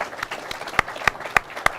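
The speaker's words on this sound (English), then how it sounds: "Your hands are going to be tired clapping after this night." An audience at an award show claps with a few sharp, distinct hand claps standing out over a thin scattering of background applause.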